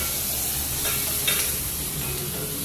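Finely chopped onion, garlic and ginger frying in a pan with asafoetida, a steady broadband sizzle with a couple of brief stirring scrapes near the middle, close and moderately loud, no talking.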